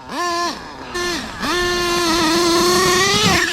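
A loud nitro RC car, an Exceed Madstorm fitted with an HPI Savage engine and running a little rich, screams close by, revving in short blips before holding a sustained high whine.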